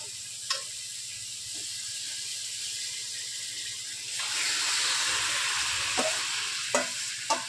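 Spiced chicken marinated for hours fries in ghee with a soft, steady sizzle close by, and the hiss swells midway as more meat goes in, punctuated by several sharp clinks of a spoon against the pan.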